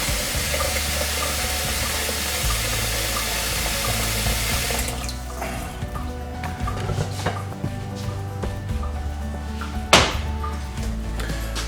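Fresh water runs from a tap for chaga tea, a broad steady rush that stops partway through, followed by quiet kitchen clinks and a sharp knock.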